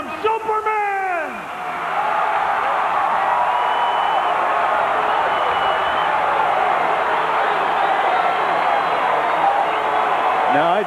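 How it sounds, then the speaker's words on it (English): Large outdoor crowd cheering and giving a standing ovation at the 1991 Chicago Bulls championship celebration in Grant Park, a continuous broad roar that swells after a brief dip, with a voice speaking briefly at the start. "Now I'd say that he was getting a standing ovation"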